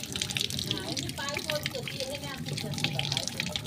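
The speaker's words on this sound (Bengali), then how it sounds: "ওই কোদালটা ধুয়ে দিই" Tap water splashes and runs over a spade being rinsed clean at an outdoor tap area, a steady close wash of trickling and spattering with faint voices mixed in.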